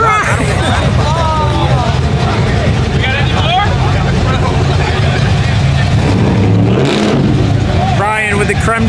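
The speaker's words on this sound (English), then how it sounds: "the creme de la creme Fox body revving" A Ford Fox body's engine revs amid a crowd, its roar swelling and falling in rising sweeps over loud chatter and voices throughout.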